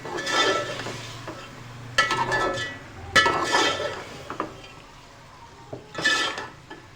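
Beans being stirred into a vegetable pulao in a metal pot, with a spoon scraping and clinking against the sides in a few short bursts.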